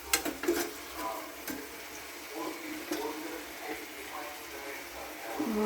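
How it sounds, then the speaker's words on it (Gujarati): A spoon stirs onion, tomato and chutney with Maggi masala in a pan for dahi tikhari, soft scraping and light sizzling with a few sharp clinks near the start, fairly quiet throughout. "ચટણીને ડુંગળી ટમેટા સાથે એકદમ મિક્સ કરી દેવાની છે"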